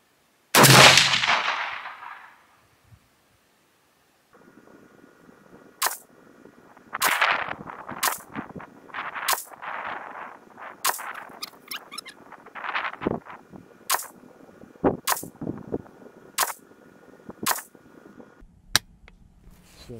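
A loud rifle shot rings out from a bipod-mounted rifle fired prone from a mat, then after a pause a series of sharp shots cracks at irregular intervals over a steady background hum.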